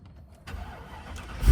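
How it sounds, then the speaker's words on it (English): A Mercedes E55 AMG engine cranks and fires up in a brief, close burst, the starter whir giving way to a loud rising roar at the end. "if I start the car up"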